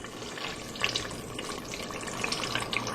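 Green chiles fry in hot fat with a steady broadband sizzle and hiss, with scattered pops and crackles throughout, close and continuous with no talk.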